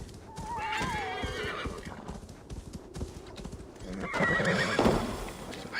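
Hoofbeats from horses in Assassin's Creed Valhalla clatter under loud, wavering neighs and whinnies, with a voice also present in the mix and a louder burst near the end.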